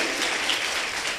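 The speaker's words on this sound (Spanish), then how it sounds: "¡Dale un fuerte aplauso a Rey de la Gloria!" Applause from a church congregation during a Christian service, a brief burst of dense clapping that stays steady and fairly loud throughout.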